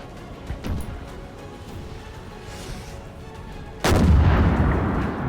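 Cannon fire in Napoleon Total War, with French 4-pounder and 8-pounder guns on a battlefield: a distant muffled boom early on, then a loud, close roaring salvo near the end that rumbles on.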